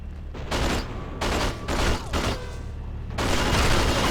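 Repeated pistol fire in the game 007: Agent Under Fire, in loud close bursts separated by short gaps, ending in a longer stretch of sustained shooting.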